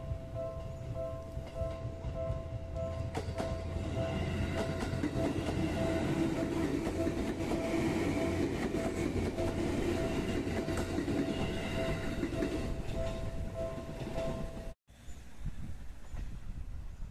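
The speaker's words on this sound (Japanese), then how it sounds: "白糸台駅を近江鉄道カラーの電車が発車しました。" An electric train departs Shiraitodai Station on the Seibu Tamagawa Line, rumbling steadily along the rails, a continuous loud roar with some squealing tones, then cuts off abruptly near the end.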